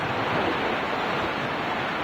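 Strong wind and big waves pound a coastal road on Pulau Karas in a steady, loud roar of surf and gusting wind, with no break and no voices.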